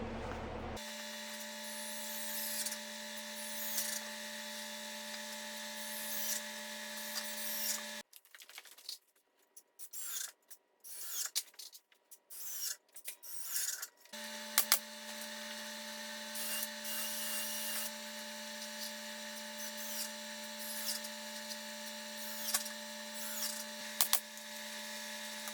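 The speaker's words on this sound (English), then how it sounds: "we'll just go ahead and shoot our 3-inch screws in there" A power drill drives 3-inch screws into a wooden workbench top, a sustained high-pitched whine broken by a stretch of stuttering bursts and knocks, then a long steady whine again, fairly faint with no talking.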